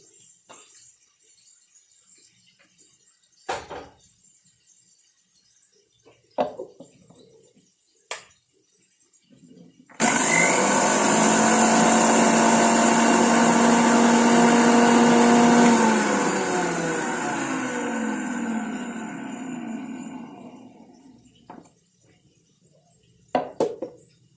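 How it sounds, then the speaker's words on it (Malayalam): A mixer grinder pulverising roasted black cumin seeds for a homemade hair dye roars loudly for about six seconds, then winds down over several more, with sharp clicks and knocks before and after. "നമ്മൾ വറുത്ത കരിഞ്ജീരകമില്ലേ അത് നിങ്ങൾ പൊടിച്ചെടുക്കണം ആദ്യം"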